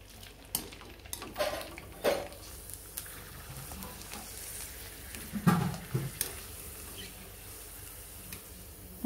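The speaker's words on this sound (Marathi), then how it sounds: "दोन्ही चकल्या आपण तळून घेणार आहोत" Sabudana potato chakli frying in hot oil gives a quiet, steady sizzle, broken by a few light clinks and taps of a utensil against the pan, with no talking.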